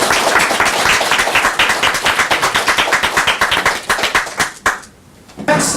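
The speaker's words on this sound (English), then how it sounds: "So let's give everybody, our teachers, staff, students, and parents, a big round of applause." A large crowd applauds at an awards ceremony for early college acceptance and SAT honors, dense continuous clapping close by that thins out and fades near the end before a brief final burst.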